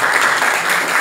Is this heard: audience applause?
yes